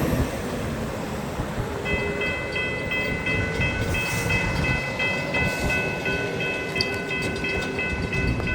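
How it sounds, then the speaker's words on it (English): A freight train rolls past on the FEC line with steady rumbling and wheel clatter, and a long tonal horn blast sounds partway through and carries on over the noise. "Cargo train."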